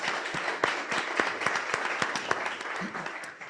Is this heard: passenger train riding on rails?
no